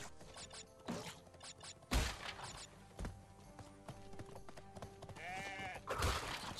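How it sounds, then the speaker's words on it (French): A little billy goat bleating in Crash Bandicoot 3, wavering cries mixed with clip-clop steps, creaks and other game sound effects in a busy, varied sequence, fairly close, with no talking. "Petite chèvre, pardon, un petit bouc."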